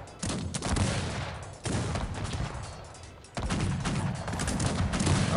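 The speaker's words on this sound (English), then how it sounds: "Now they're starting to shoot" Dense volleys of musket gunfire crackle continuously in the real-time strategy game Cossacks 3, with three loud overlapping bursts of massed shots that restart abruptly, alone without talk.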